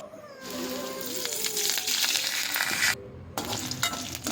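Garlic and curry leaves frying in hot oil with mustard seeds for a potato lunch dish, giving a steady loud sizzle that breaks off briefly partway through and then resumes.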